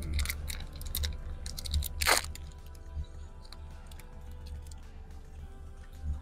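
Cake being chewed on a long-distance VIP coach bus from Cairo to Luxor, Egypt, with close crunching and mastication sounds over a steady low engine rumble.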